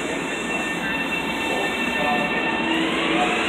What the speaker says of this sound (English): there goes the Ronkonkoma train